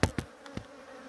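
Bee swarm at an apiary hive box that fell over, with a few short loud buzzing bursts, close to the microphone, followed by a quieter steady hum.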